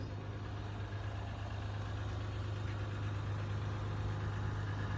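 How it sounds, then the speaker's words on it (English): A Jeep Gladiator with the 3.0 EcoDiesel engine idles loudly on a cold start, a close, steady low diesel drone with a constant hum and a faint clattering texture. "It's a cold start, so that's part of why it's loud like that."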